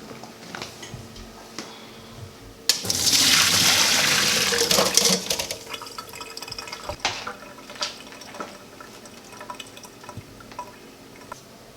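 Boiled potatoes are drained, and a sudden loud rush of pouring water lasts several seconds before thinning into splashes and drips, close by in a quiet kitchen.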